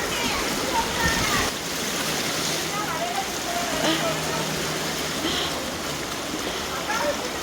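Floodwater from heavy rain rushes steadily through a street opposite Lakshmi Nagar in Virudhunagar, a continuous close hiss and splash with faint voices in the background.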